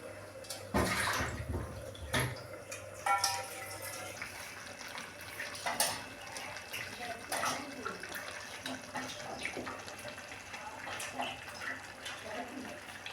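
Water is poured into a pan of crab curry while it cooks, making a splashy, trickling pour with a few sharp clatters. A voice speaks faintly in the background.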